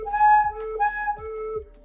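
Played by a beginner, a flute shifts pitch back and forth as a hand is lifted on and off it, giving breathy, chugging two-note toots like a toy train, close and clear.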